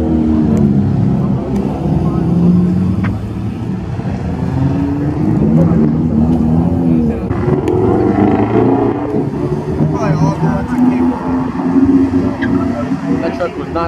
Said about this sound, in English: That truck was not stopping.